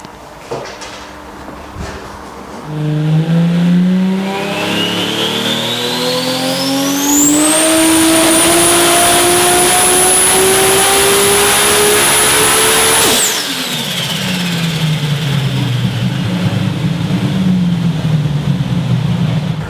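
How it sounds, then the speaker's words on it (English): Twin-turbo E85 Lamborghini Superleggera on a dyno, the engine loud and close as it climbs through a long rising rev pull into a high sustained wail, then drops abruptly and settles back into a rumbling idle. "This is the same dyno that I was putting my Supra in a couple of years ago here at V-Tune at Tobias."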